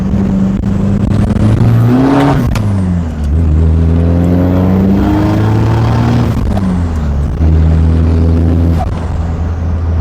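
Isuzu D-Max pickup with a 3.0 engine, manual gearbox and a newly replaced rear differential, heard from inside while driving through a curve: a loud, continuous engine drone rising and falling in pitch as it accelerates, eases off and pulls again.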